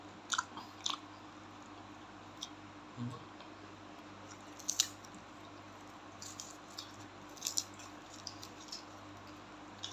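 Someone eats eggplant chili dip with vegetables, making soft wet chewing and small crunchy bites in scattered bursts, close up and quiet against a faint steady background hum.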